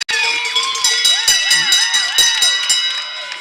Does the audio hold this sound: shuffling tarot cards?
no